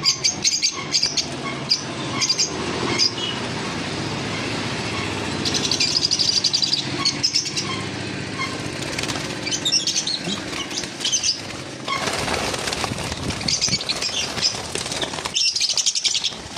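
Pet lovebirds flutter and flap their wings nearby, with bursts of high chirps and tweets scattered throughout, fairly loud and busy.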